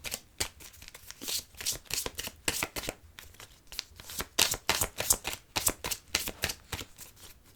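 Tarot cards are shuffled before a reading, with rapid, steady riffling and slapping of the deck in quick repeated bursts, close and fairly crisp, with no voices over it.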